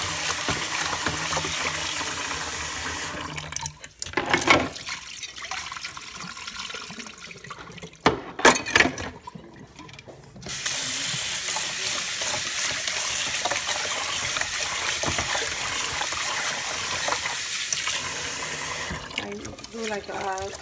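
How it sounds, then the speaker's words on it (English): Running tap water splashes into a sink while rice is washed for black beans and rice, with the flow stopping and starting several times and a few brief pauses of quiet between bursts. "I'm gonna wash the rice a little bit"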